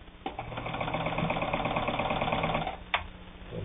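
A vintage Italian-made Necchi Supernova Ultra sewing machine running at a steady motor speed, a close, even mechanical whirr and rapid stitching clatter for a few seconds, stopping with a brief knock near the end.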